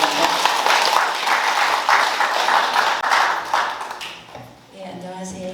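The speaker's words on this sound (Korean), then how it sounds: "박수로 환영해 주시기 바랍니다." Audience applause welcoming a novelist and head of the Gangwon Cultural Foundation onto the stage at a birthday commemoration for writer Kim Yu-jeong, sustained clapping that fades out toward the end as a voice begins.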